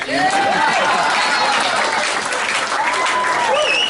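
A crowd applauds loudly and steadily throughout at a Paul Stanley interview on the KISS Kruise, with a few whoops and cheers rising above the clapping.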